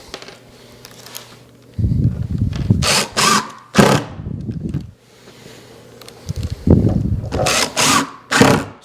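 Screws are driven into a spalted sycamore bar with a power driver: several loud whirring bursts rise and stop in turn, close by, with brief pauses between them.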